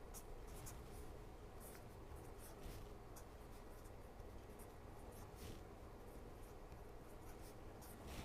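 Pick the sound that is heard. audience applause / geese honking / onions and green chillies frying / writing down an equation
writing down an equation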